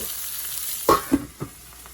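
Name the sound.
lamb chops frying in a covered pan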